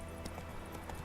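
Roach, a horse in The Witcher 3, gallops with quick, soft hoof clip-clops, faint and brief under a steady game background.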